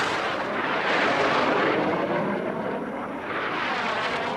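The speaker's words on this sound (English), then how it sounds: "What a great sound, Tommy, to hear those jet engines come by." Racing jet airplanes, including a de Havilland Vampire in the Jet Class at the National Championship Air Races, roar past a pylon with a loud, continuous broadband engine rush that swells and fades slightly as they fly by.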